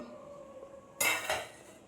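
A metal lid lifted off a pot of simmering fish curry, a single bright clank followed by a brief rattling scrape, heard close over a quiet kitchen background with no voices.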